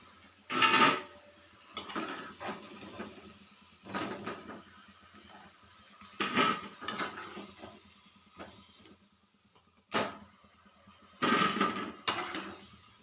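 Fried brinjal (eggplant) kebabs being lifted out of a frying pan, with bursts of clinking and scraping from utensil against pan recurring at irregular intervals over a low steady sizzle, fairly close and with no talking.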